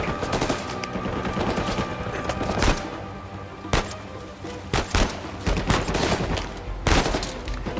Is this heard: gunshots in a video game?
yes